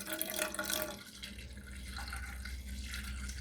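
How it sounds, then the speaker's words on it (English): Bottled water pours into a cooking pot for cheddar broccoli noodles, a steady close splashing gush that starts loud and settles into a continuous pouring rush. "one bottle of water should be enough for this, so I'm just going to pour that in right there"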